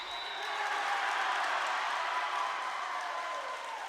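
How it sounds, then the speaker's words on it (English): Red Raiders student section at a high school volleyball match gives a steady Bronx cheer, a broad sustained crowd roar with scattered claps that swells and holds throughout. "Bronx cheer from the Red Raiders student section."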